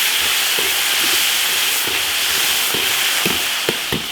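Sichuan pepper, ginger, garlic and chili sauce stir-fried in an iron wok, giving a steady loud sizzling hiss with a few sharp ticks of the spatula near the end.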